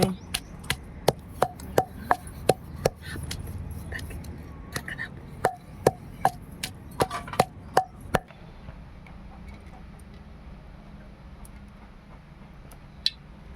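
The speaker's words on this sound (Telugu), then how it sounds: "జీలకర్ర వెల్లుల్లిపాయలు వేసి దంపుకొని తీసేసుకోవటమే" Cumin seeds and garlic pounded in a mortar for cucumber chutney: a run of sharp, regular thuds, about twenty close strikes in the first eight seconds, then a few scattered knocks over quiet room noise.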